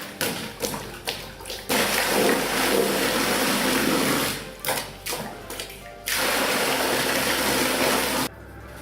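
A simple homemade hand pump plunged up and down in a water barrel, pushing water through a 4-inch pipe, with rhythmic thumps and clunks, gushing and sloshing bursts, and mechanical rattling, close and loud.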